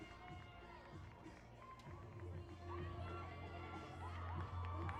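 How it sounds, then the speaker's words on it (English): Soccer fans at a women's match between AFC Ann Arbor and Union FC Macomb cheer as the teams come back onto the pitch for the second half, a distant crowd roar rising steadily under a commentator's voice. "As the AFC and Arbor faithful cheering their team headed out onto the pitch."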